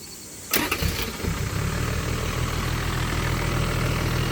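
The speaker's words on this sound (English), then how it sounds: "That's a Toyota diesel, sounds as fresh and as responsive as when it was new." A 1986 Toyota Land Cruiser HJ61 turbo diesel cranks briefly and fires up, then settles into a steady, rumbling idle heard up close.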